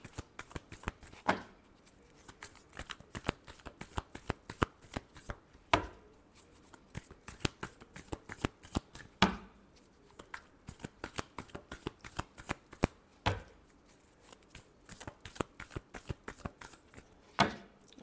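Tarot cards are shuffled by hand close up in quick, quiet bursts of riffling and flicking, repeated over and over with brief pauses between rounds.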